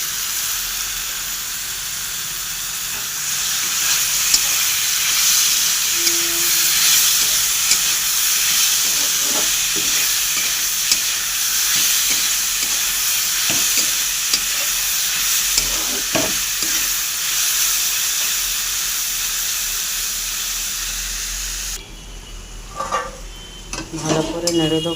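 Bottle gourd and browned onion fry in a pan with a loud, continuous sizzle while a spatula scrapes and taps against the metal, before the hiss drops sharply near the end.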